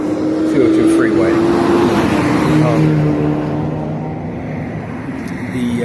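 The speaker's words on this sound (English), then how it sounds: "There's my bus." A city bus passes along a suburban road near Allison Road, its engine droning close and loud at first, then slowly receding and fading as it moves away.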